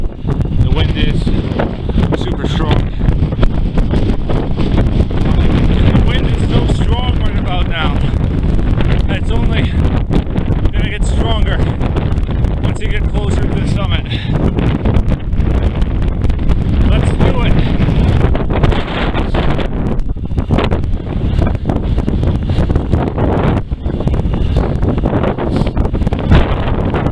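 Strong, continuous wind buffets the microphone on the exposed ridge crest of Mount Washington, New Hampshire, a loud steady roar with gusty surges throughout, with no clear talk over it.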